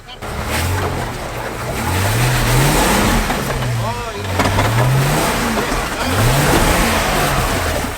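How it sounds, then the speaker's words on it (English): A 4x4 off-road vehicle with a front winch climbs at a local dirt track, its engine revving and rising in pitch, dropping briefly at a gear upshift mid-way and then climbing again, loud and continuous with wind noise and some talk over it. "Was that a gear change in the middle there, Matt?"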